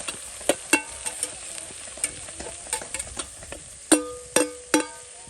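A spatula stirs onions sautéing in a pan for Kathiyawadi brinjal oro, with sharp scattered knocks against the metal that grow louder and closer toward the end, over a faint background sizzle.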